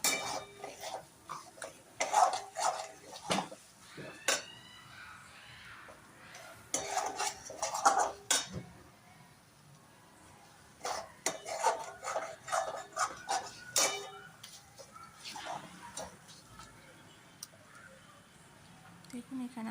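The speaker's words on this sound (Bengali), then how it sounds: "মশলা থেকে যতক্ষণ না তেল বেরোয় ততক্ষণ আমি কষে নেব মশলাটা ভালো করে" Spice paste fries in oil in a pan while a spoon scrapes and clatters against the metal in repeated bursts, with pauses between rounds of stirring and a voice speaking in places.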